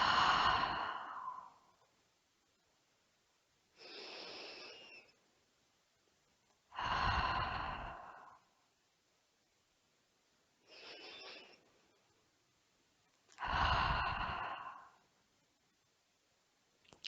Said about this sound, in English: please take 3 deep breaths in